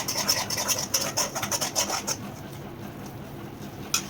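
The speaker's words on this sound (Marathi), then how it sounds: "5 ते 7 मिनिट व्यवस्थित परतून घ्यायचं।" Masala being stirred and sautéed in oil in a pan over a medium flame. Rapid rasping scrapes of the spatula run for about two seconds, then a softer, steady frying hiss remains with one last scrape at the end.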